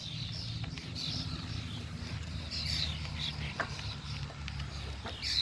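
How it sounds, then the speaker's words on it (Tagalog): Outdoor birds chirping and singing near a highway outside Berlin, with scattered bright tweets and short song phrases rising over a steady low hum of traffic and background noise. "Sarap pakinggan ng huni ng ibon,"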